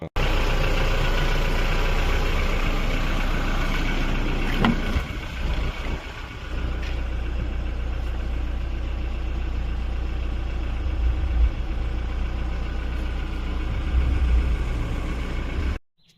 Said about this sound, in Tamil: நெக்ஸ்ட் இந்த காரோட இன்ஜின் ஐட்லிங்லாம் பார்க்கலாம் எப்படி இருக்குன்னு.